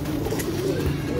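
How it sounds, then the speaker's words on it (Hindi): Teddy pigeons of the Lal Pari breed coo softly on a rooftop, a low continuous murmuring close by with no talk over it. "ये लाल परी वाले टैडी कबूतर दिखा रहे हैं"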